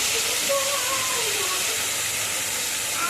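Cumin seeds and curry leaves sizzle in hot oil while tempering for a fish kuzhambu. A steady, close frying hiss runs throughout with small crackling pops.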